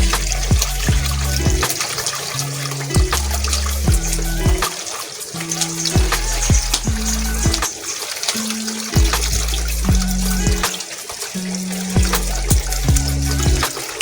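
Sliced pork being rinsed under a running kitchen tap, a steady loud stream of water splashing and sloshing over the meat with repeated pulses of handling, no talking.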